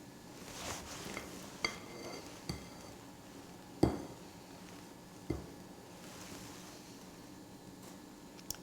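Chocolate pudding batter ladled into ramekin dishes set on a tray for a gluten-free self-saucing pudding, with soft scraping and several sharp clinks of ladle against ceramic spread out over a quiet background.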